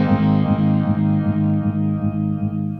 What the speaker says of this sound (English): So that would be the 3 different types of tremolo